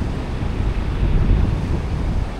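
Strong waves wash at a ferry port, giving a continuous low rumbling surge mixed with wind buffeting the microphone, steady and fairly close, with no voices.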